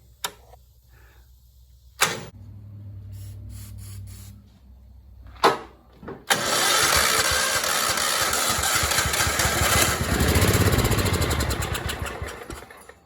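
A John Deere LX173 riding mower gets a shot of starting fluid in the air cleaner, though its carburetor is getting no fuel. Two brief sprays sound first, then the engine cranks loudly and continuously for several seconds and fades without catching.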